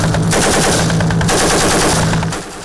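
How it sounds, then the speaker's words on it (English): Night-time combat in Somalia: loud, sustained bursts of automatic gunfire roll on almost without a break, with heavy thudding blasts mixed in, close and harsh, then cut off abruptly at the end. "the serene night is disrupted by a deafening bang, followed by mortar fire"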